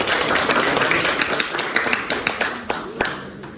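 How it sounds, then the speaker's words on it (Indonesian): A room of people at a school teaching session clapping for a presenting group, brief scattered applause that thins into a few separate claps over about three and a half seconds. "beri aplaus untuk kelompok"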